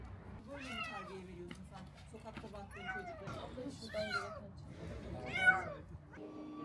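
A stray cat brought to a municipal cat neutering centre meows repeatedly, several rising and falling cries close by, with people talking quietly underneath.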